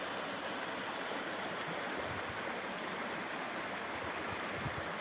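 Heavy summer cloudburst rain and rushing rainwater form a dense, steady broadband wash of flowing water, moderately loud and continuous with no voices.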